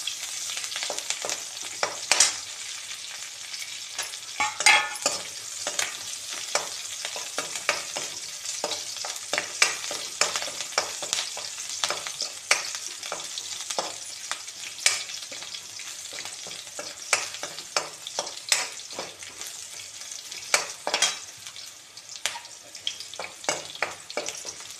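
Curry leaves sizzle and spit in hot oil in a pan while sabudana kadhi is cooked, a dense, steady crackle with frequent sharp pops and the occasional scrape of stirring, and no one talks.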